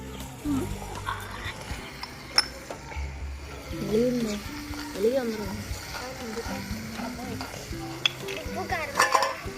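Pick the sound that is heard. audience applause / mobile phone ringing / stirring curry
stirring curry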